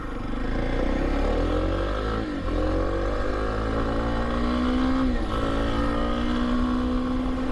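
A motorcycle engine runs steadily throughout a ride, loud and close, with a continuous low drone and harmonics that rise in pitch as the bike accelerates; no voices are heard.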